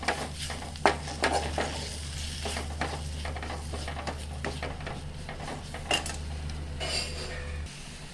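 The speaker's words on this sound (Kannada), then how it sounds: "ಈಗ ಈ ಪನ್ನೀರ್ ಬಟರ್ ಮಸಾಲ ಪೌಡರ್ ಹಾಕಿದ ಮೇಲೆ ಒಂದು ಸತಿ ಫ್ರೈ ಮಾಡಬೇಕು" Paneer butter masala powder frying in a pan, a low steady sizzle under repeated scraping stir strokes and light clicks of a spoon against the pan, with a constant low hum behind.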